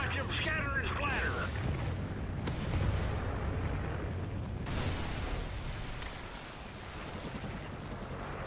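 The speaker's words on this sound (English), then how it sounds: "Friendly Trinity rocket inbound. Watch them scatter and splatter." Rocket strike explosions from a Trinity rocket killstreak in Call of Duty: Ghosts, a heavy continuous rumble of blasts and gunfire that fills the whole stretch at a steady loudness, with game voices over it.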